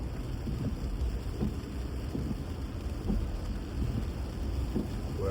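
Rain hisses steadily through a drive into downtown Baltimore, mixed with low road rumble and wind buffeting, with faint softer thumps scattered through the steady wash.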